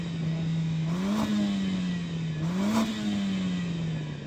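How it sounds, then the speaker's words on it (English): Audi RS3 five-cylinder engine revved while stationary, holding a steady drone and bouncing twice against the soft limiter in a wavering, repeated rise and dip, loud and close, with no talk. "I'm going to rev up this Audi and experience the annoyance of a soft limiter, because this 5-cylinder engine does sound good"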